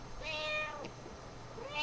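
Cats meow twice, a drawn-out tonal meow followed by a shorter one near the end, faint and set against a low background hum.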